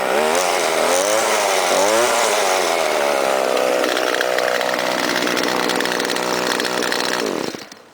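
A gas string trimmer engine runs loud and close after starting, revving up and down in the first seconds, then holding a steady buzzing drone before abruptly cutting off near the end.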